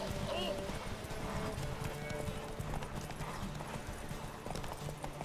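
A horse gallops in The Witcher 3 with steady, rapid clip-clop hoofbeats throughout, a brief whinny near the start, and someone talking over the running.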